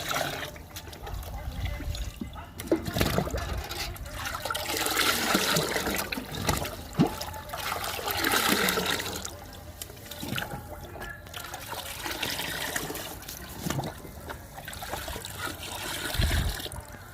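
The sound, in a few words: mixing liquid fertilizers into water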